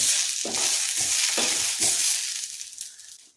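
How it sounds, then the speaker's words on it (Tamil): Curry leaves roast in a pan for a curry leaf kuzhambu, giving a steady broadband sizzle with several soft stirring scrapes at a regular pace that fades toward the end. "நல்லா வறுத்துக்கணும் இந்த பச்சை எல்லாம் போகிற வரைக்கும் நல்லா வறுத்துக்கணும்"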